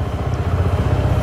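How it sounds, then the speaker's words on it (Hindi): Suzuki Gixxer SF 250 motorcycle engine starting via its one-push electric start, settling into a steady, rumbling low idle close by with no talk over it. "इसमें वन पुश स्टार्ट, एक बार टच करोगे इंजन चालू हो जाएगा।"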